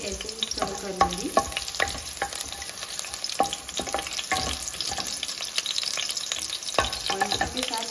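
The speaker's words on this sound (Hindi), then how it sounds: "मैं यहाँ पे ग्रीन चिलीज ऐड कर दूंगी और इन्हें बस करीब 20 सेकेंड्स के लिए ऐसे ही स्टर कर लूँगी" Green chilies sizzling in hot oil in a pan while being stirred for poha, a close, continuous crackling fry punctuated by sharp scraping clicks of the spoon against the pan.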